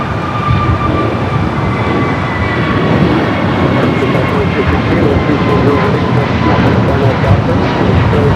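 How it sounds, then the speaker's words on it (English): An Airbus A321 rolls down runway 25 Right at Los Angeles International, its engines giving a loud, sustained roar with faint whining tones, while a voice talks over it. "We do have a A321 rolling down to 5 right"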